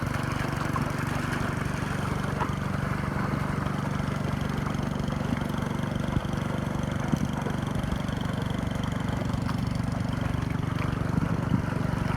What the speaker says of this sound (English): I got it running. Working pretty good, but like I said, that pump's about all this can handle. It's running hard through there.